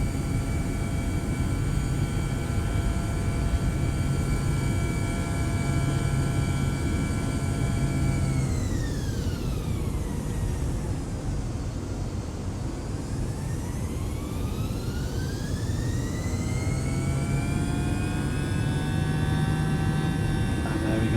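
A British Airways Airbus A318 with a throttle fault at the runway end, its jet engines roaring steadily at close range, with whining engine tones sweeping down and rising again.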